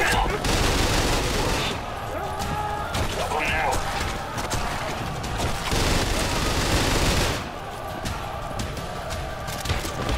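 Dense, loud automatic gunfire from the Trepang 2 video game, with heavy recoil, continuing almost without pause through the clip alongside game action and some voice.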